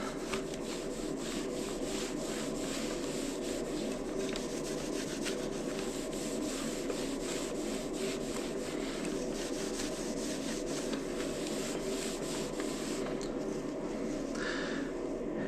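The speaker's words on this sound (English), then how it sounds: "So just going up and down, really getting that old wax off." Old wax is scrubbed off a ski base with steady up-and-down strokes, a dense, continuous rasping rub that stays loud and close throughout, with no talking.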